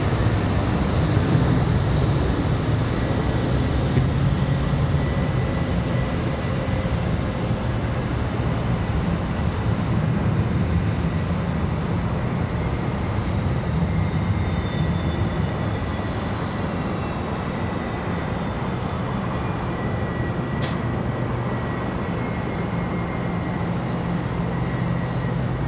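American Airlines airliner at Raleigh-Durham International Airport, a steady, loud jet roar that holds evenly for the whole stretch with no break.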